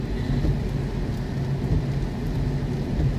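Heavy rain pours down steadily during a rainy-season trip on Samui Island, Thailand, making a dense, continuous wash of noise with low rumbling underneath and no voices.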